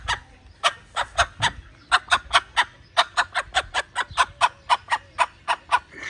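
A bantam Australorp rooster gives a rapid run of about twenty short, evenly spaced tidbitting clucks, calling a hen over to food he has found, close and clear with no talking.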